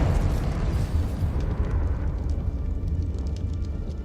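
A Confringo fire spell explodes in the video game Hogwarts Legacy, a loud, sustained rumbling blast with crackling bursts that fills the whole stretch without a break.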